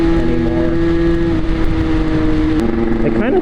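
Derbi Senda off-road motorcycle engine running with a steady droning tone, then a brief throttle blip near the end; a voice talks over it.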